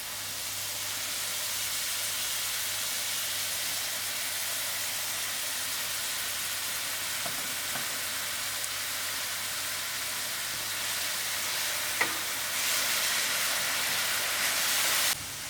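Onions fry in a quarter cup of hot oil for a Mauritian curry, giving a steady, even sizzling hiss that runs throughout with a brief clink midway.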